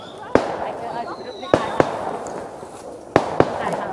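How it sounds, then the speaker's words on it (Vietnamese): Firecrackers set off in a village street for Lunar New Year: four or five sharp, loud bangs in irregular pairs over a steady outdoor background. "Nói chung là tứ phía chỗ nào cũng đốt pháo mọi người ạ."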